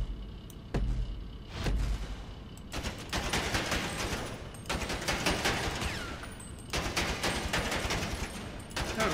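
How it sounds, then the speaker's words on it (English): Assault rifle fire at a shooting range in a video game, rapid loud automatic bursts broken by short pauses, with sharp reports running back to back for most of the stretch. "Shooting range. Yeah, assault rifle, that might be good."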